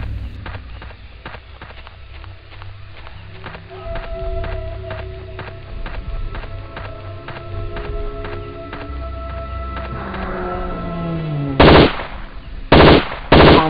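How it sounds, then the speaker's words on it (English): A Swedish-made Lindstrat machine gun fires in the video game Jurassic Park Trespasser, with rapid, rhythmic bursts of shots that loop steadily and then end in a few loud, separate blasts. "Lindstrat guns, by the way. Swedish made, unbeatable for accuracy and rate of fire."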